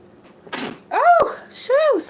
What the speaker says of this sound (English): something blew through. I had to sneeze.